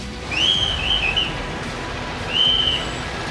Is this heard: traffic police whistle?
yes